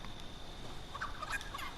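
An injured chicken in the video game Fortnite gives a few faint, quick clucking calls over low background noise, brief and somewhat distant, with no talk.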